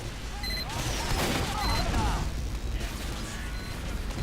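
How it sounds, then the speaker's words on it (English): Grenade spam mixed with gunfire in an Egypt map video game battle, dense bursts and pops rolling continuously over a loud, busy mix with faint speech underneath. "And here come the spam nades."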